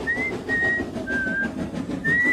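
Cheerful whistling echoes around a mountain and draws closer in short, bright phrases, each held note sliding slightly, over a steady low rumble in the background.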